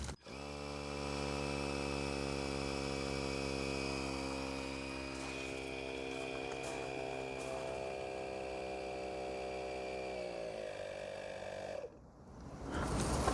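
An ETENWOLF Zephyr S3 wireless tyre pump inflates a bike tyre to 20 psi with a loud, steady motorised whine. The whine holds for about ten seconds, dips slightly in pitch, then cuts off abruptly.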